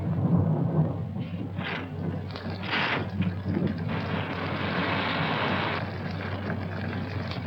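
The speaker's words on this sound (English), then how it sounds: "I think it would be foolish to go out in such a storm." A thunderstorm rumbles through a continuous bed of rain and wind noise, with rolling swells of thunder rising and fading over several seconds, steady and fairly soft.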